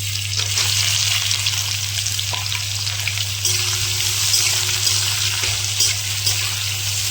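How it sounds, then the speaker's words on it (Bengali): Chopped raw onion sizzles steadily in hot oil in a pan for potato curry (aloo dum), a loud continuous frying hiss with a low steady hum beneath and occasional faint clinks, no talking. "এরপর কেটে রাখা কাঁচা পেঁয়াজ আমি দিয়ে দেবো।"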